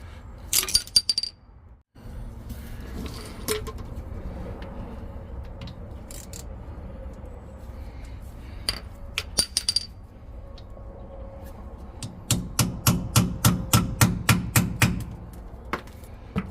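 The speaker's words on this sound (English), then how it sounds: "I'm gonna have to hammer around there maybe." A rapid series of sharp metallic taps from hammering on a metal differential cover rings out, about a dozen close blows in a quick steady rhythm, after scattered clanks and scraping.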